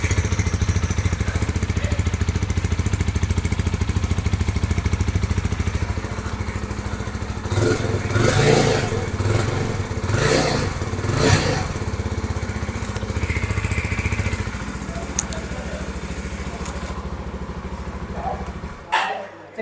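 Jawa 42 FJ motorcycle engine running steadily nearby, with deep bassy exhaust and several revving surges in the middle before settling back to a continuous idle and cutting off at the end.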